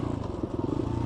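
A GPX FSE250e electric motorcycle rolls down a dirt track, giving a steady close whirring hum with rattling clatter from the ride over rough ground.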